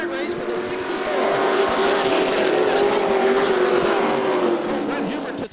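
Asphalt pro trucks race on a Florida dirt track, their engines a loud, sustained rising whine that swells and holds for several seconds, with a voice faintly underneath.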